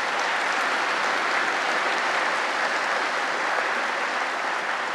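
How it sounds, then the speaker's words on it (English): A conference audience applauds its sponsors at a EuroPython 2023 opening session, a dense, even wash of clapping that stays loud and unbroken from start to finish. "So please give a round of applause to all of our sponsors."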